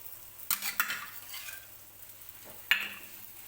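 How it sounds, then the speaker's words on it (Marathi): A Maharashtrian puran poli fries in oil on a hot pan, giving a quiet steady sizzle broken by two sharp scraping clatters as the flatbread is flipped. "आणि पोळी जी आहे ती अलगद पलटून घ्यायची आहे."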